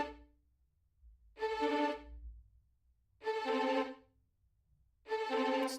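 An instrument plays tremolo in three separate bursts of fast repeated notes, each about a second long with quiet gaps between them, heard alone with no talking.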